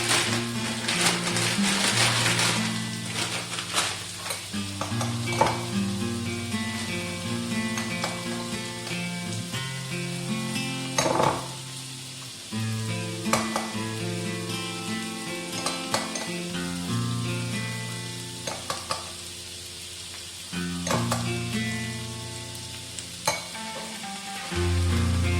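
Food browns in a hot frying pan with a steady, loud sizzle and frying crackle, broken by occasional stirring scrapes and clinks of a utensil against the pan, no talking.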